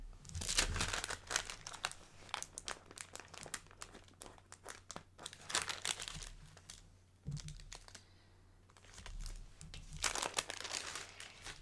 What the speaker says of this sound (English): I'm just going to grab some tape.